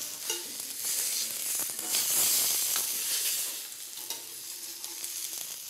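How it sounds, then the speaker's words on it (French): Tofu sizzles in hot oil in a frying pan, a loud bright hiss that swells and eases, with a few soft clicks of handling close by. "Je vais poser le tofu dans ce sens afin d'éviter de se brûler."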